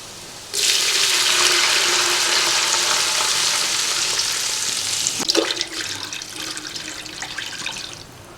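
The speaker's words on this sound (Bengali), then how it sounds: "পেঁয়াজ ব্রাউন কালার হয়ে গেছে, এবার কি যাবে? এবার জল যাবে," Water is poured into a hot pan of browned fried onions while cooking Kolkata-style chicken biryani, setting off a sudden loud hiss and sizzle that slowly fades. A stirring clatter comes partway through.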